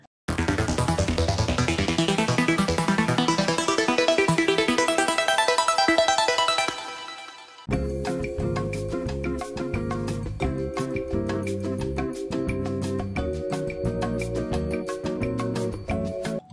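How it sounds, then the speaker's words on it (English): A dreamy future bass arpeggio made in the Serum synth from one held note, running as a fast, continuous ripple of bright tones; it stops briefly, then resumes with a deeper, punchier layered pattern. "how I make these complex arps in Serum by just holding down one note"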